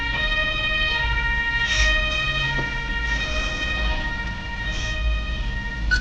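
An ambulance siren from the Emergency video game wails steadily throughout, loud and continuous with a faint rumble of vehicle engine beneath, no voices present.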